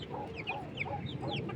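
Two-month and six-week-old silkie chicken chicks on a farm make a run of soft, high clucking and peeping calls, close and continuous over low background noise.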